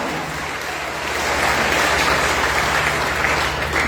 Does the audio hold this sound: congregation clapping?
yes